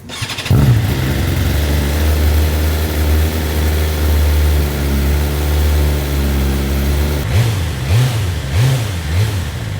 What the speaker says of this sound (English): a little clip in my parking garage of a cold start